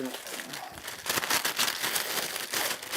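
Paper crinkles and rustles as a sheet is laid down on a woodworking bench, with close, scratchy handling sounds and a few louder crumples.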